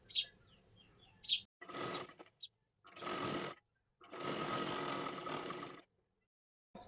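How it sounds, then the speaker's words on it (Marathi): Sewing machine stitching blouse fabric while the cloth is held centered for a seam, running in several loud bursts of steady whirring separated by pauses, with a couple of short high chirps near the start. "हे व्यवस्थित पकडा आणि शिलाई मारून घ्यायची आहे"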